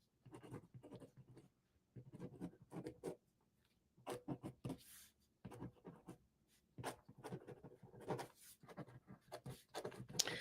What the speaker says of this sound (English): so I'm going to write something down, what I want to release